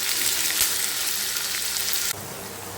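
Green chillies and sliced onions frying in hot oil in a pan, a steady dense sizzle filling the whole stretch, close and loud, easing slightly near the end.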